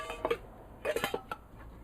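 A metal camping cook set is nested into the base of a Kelly Kettle, giving a few quick metallic clinks and clatters close by, in two short bursts with a final light tap and no talk.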